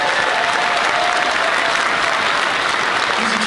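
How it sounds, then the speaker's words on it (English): Loud, dense audience applause fills a gaming panel hall, a steady wash of many hands clapping without pause from start to finish. "Give him a round of applause."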